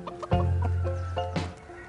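Hens in a hen house cluck in short, close bursts over a steady low hum from the shed.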